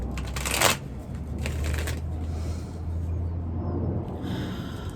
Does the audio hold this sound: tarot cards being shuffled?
yes